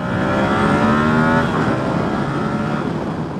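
Yamaha YZF R7 motorcycle ridden at full throttle in fourth gear, a loud sustained engine roar rising in pitch then easing slightly as it pulls hard, close and dominant without speech.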